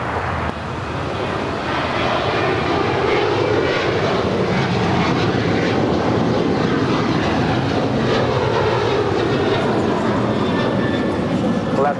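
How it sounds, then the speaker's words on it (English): An Alaska Airlines Boeing 737-900ER jet departs LAX with a loud, steady engine roar that fills the whole stretch, and a voice talks over it. "That was Alaska 290 departing to Guadalajara on a 737-900 ER."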